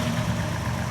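A 1956 Jaguar engine idling in a garage, a steady low rumble that holds even and continuous with no talk over it.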